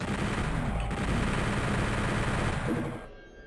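Dense, rapid gunfire in the video game Doom 64 rattles continuously like an intense firefight, close and loud, fading out at the end.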